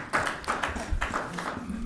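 Audience clapping at a municipal utilities advisory board council meeting, a short burst of scattered claps from a small crowd, moderately close, with no talk.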